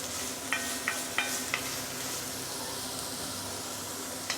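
Salted onion sautéing in a cast iron pot gives a steady low sizzle, with a few sharp scraping stirs near the start and one more near the end.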